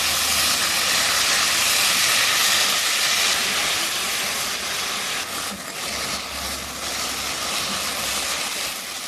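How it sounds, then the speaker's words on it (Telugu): Curry leaves and dried red chillies fry in a pan, a loud continuous sizzling hiss that holds steady throughout. "అందులో కరివేపాకును వేసేసుకొని దాన్ని కూడా చక్కగా ఫ్రై చేసుకుందాం."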